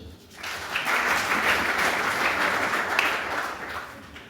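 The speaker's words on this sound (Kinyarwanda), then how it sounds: "wikomera amashyi." Audience applause at a women's day celebration gathering in Mbarara, Uganda, a broad, sustained wash of many clapping hands that rises quickly and holds steady for several seconds before easing slightly.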